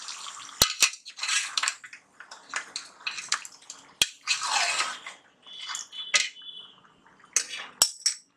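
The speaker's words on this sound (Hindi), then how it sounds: "इसे हमें अच्छे से भूनना है।" Mutton for Kolhapuri mutton being roasted and stirred in a pot, with intermittent metallic scrapes and clinks of a spoon against the pot and sharp taps in an irregular rhythm, close and clear with no talking.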